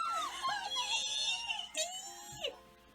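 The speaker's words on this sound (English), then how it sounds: "The girl screamed louder." A girl's high, wavering scream in the game Nameless: The One Thing You Must Recall rises and falls over a few seconds, loud and close, with short breaks and renewed shrieks near the end.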